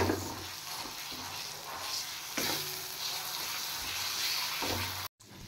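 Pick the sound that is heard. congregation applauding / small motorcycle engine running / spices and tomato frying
spices and tomato frying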